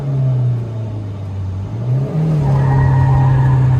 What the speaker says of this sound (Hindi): ज्यादा ही व्हील स्पिन हो गया।